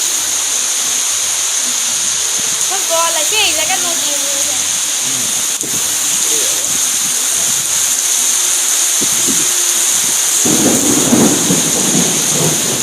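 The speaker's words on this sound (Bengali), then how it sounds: "জানি না কখন এই ঝড় বৃষ্টি থামবে সেই সাথে বজ্রপাত হচ্ছে" Heavy rain pours steadily during a violent thunderstorm, with low thunder rumbling through it; a person's voice surfaces briefly and faintly above the downpour.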